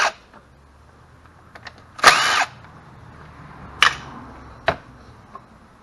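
A 10mm socket works loose the bolts holding the timing cover plate on the back of an EZGO golf cart engine during a rebuild, giving several sharp, close mechanical bursts and clicks separated by quiet gaps.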